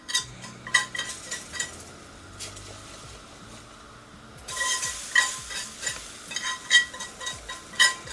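A spoon stirs a flour-and-oil roux in a pot, with repeated scraping and clinking strokes over a soft sizzle, close and fairly quiet, the frying growing brighter midway.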